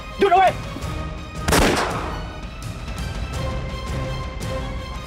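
Gunshots ring out in a Thai TV drama, a sharp crack near the start followed by a louder blast about a second later, with shouting voices and background sound continuing underneath.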